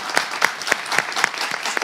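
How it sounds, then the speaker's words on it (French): An audience breaks into applause in a French talk show studio, a brief burst of brisk, evenly spaced claps at close range. "on va applaudir pour ce grand homme."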